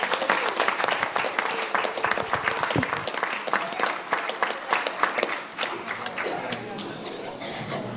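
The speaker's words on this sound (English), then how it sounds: "Give them another round of applause." A council meeting audience in Ascension Parish claps in a dense, steady round of applause that fills the room. A voice speaks briefly over the clapping.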